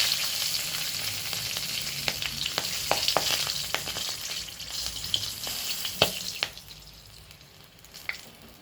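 Nigella seeds and two green chillies tempering in hot oil, a loud continuous sizzle with crackling pops and a few sharp spits, fading somewhat toward the end, with no talking.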